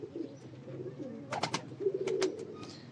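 Domestic pigeons coo in low, rolling, throaty phrases nearby, with a few sharp flutters or clicks breaking in between the calls.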